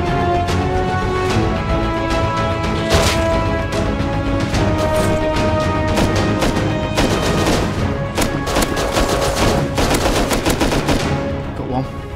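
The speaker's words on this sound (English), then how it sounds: "Where was he shooting from?" Gunfire in the survival video game Rust: loud, dense automatic bursts and rapid shots crackle almost nonstop for about twelve seconds, with layered tonal in-game sound beneath.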